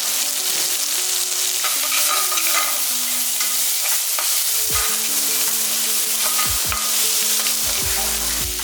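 Onions frying and being stirred in a pan while mutton intestine gravy is cooked, with a steady, close sizzle running throughout and occasional scraping stirs; bursts of background music tones sit beneath the hiss.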